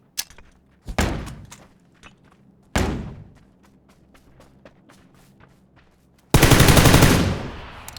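Several sharp gunshots ring out in PUBG with pauses between them, including VSS rifle fire, ending in a sustained loud burst of rapid fire, with faint thuds and movement in between.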